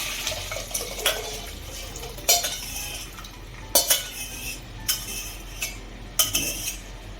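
A spoon stirs curry-leaf tempering in a metal pot, with sparse clinks and scrapes against the pot at irregular intervals over a faint steady background.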